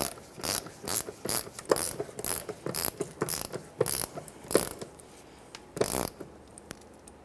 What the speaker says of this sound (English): Now we can put the nuts back on and tighten them down.